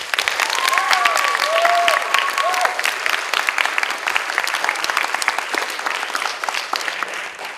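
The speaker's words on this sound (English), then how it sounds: "So give them a round of applause" Audience applauding after a secondary school drama production at ISHCMC, sustained dense clapping throughout, with a few whistles rising above it early on.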